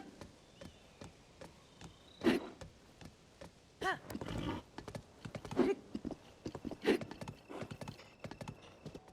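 Hooves of a galloping horse in Zelda: Tears of the Kingdom, a steady quick rhythm of clip-clop beats, punctuated by a few louder swishing strikes, moderately quiet and without voices.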